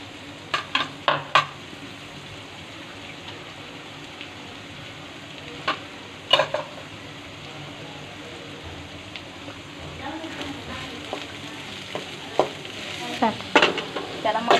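Chopped medium onions for pav bhaji frying on medium heat, a continuous sizzle under scattered sharp scrapes and clacks of stirring in the pan.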